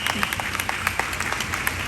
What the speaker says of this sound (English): Let's get another round of applause, if you might.